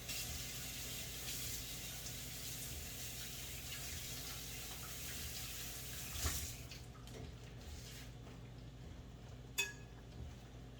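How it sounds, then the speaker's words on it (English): Tap water runs steadily into a sink as fingers sticky with sourdough are rinsed off. The flow is continuous and moderately loud, with a couple of faint clinks near the end and no talking. "I'm gonna rinse my fingers off real quick"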